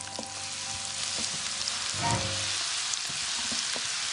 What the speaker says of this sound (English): then cook them gently in a pan with a bit of butter and olive oil